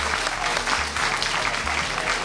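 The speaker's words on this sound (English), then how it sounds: "Big round of applause to the 5 schools." Applause for five schools at a quiz event, a brief burst of dense, lively clapping from a room full of people, steady and loud from start to finish.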